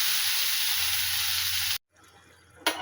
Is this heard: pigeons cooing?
no